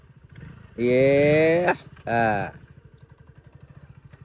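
A motorcycle ridden by a new rider, with Gopal seated behind, idles with a steady low putter, then revs hard twice in close, rising bursts before settling back to idle; a voice speaks briefly.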